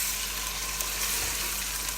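Liver (kaleji) fries with garlic and ginger in hot oil, a loud, dense, steady sizzle heard close up without any voice.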